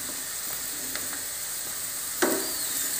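A hot pan of egg fried rice sizzles steadily as chilli sauce is poured in, a close, constant hiss with a sharper burst of crackling near the end.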